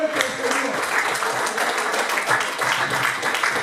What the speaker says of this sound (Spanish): ¿Cuánto le dan un aplauso fuerte al Señor?